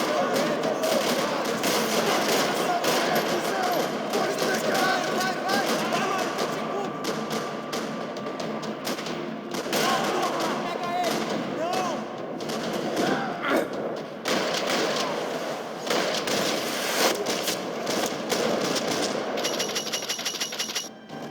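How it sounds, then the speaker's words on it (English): Sustained bursts of gunfire with heavy thuds and rattling volleys echo through a parking lot for over twenty seconds, loud and dense with brief lulls, while voices talk over the shooting. "Another parking lot rattling with gunfire."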